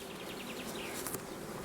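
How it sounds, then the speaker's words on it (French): Bees droning steadily around an open beehive, a close, continuous low hum with faint chirps from birds somewhere behind it. "il y a des abeilles partout"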